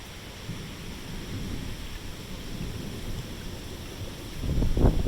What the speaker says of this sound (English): It's lightning everywhere!